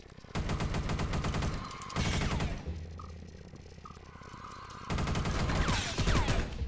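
Defensive turret in the sci-fi horror game Space Beast Terror firing rapid bursts of automatic gunfire, loud and close, in several sustained volleys separated by brief quieter gaps with a low hum.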